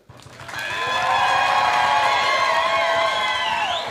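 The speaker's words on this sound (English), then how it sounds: "Just clap for the one you want to win." A live audience bursts into loud clapping mixed with cheering and whoops, swelling quickly after a brief quiet start and holding as a dense, sustained roar.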